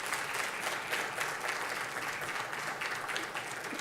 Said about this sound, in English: How about a round of applause for Lyn?